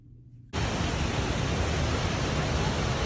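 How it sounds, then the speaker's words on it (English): Forceful mountain waterfall pouring a heavy volume of water, a sudden roaring rush that fills the clip with a dense, loud, unbroken broadband wash. "the rate at which the water is spewing from the falls, it is just wow, it is so forceful"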